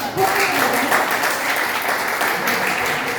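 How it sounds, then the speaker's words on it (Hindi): An audience at a poetry event claps together in a brief, steady burst of applause that fills the whole moment, with a few voices under it. "तो तालियां खुद के लिए बजाएं"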